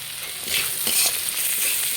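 Vegetables with a little garam masala, sugar and fried cashews are stirred in a hot pan for semolina pulao, giving a close, steady sizzle with soft scraping swells from the stirring.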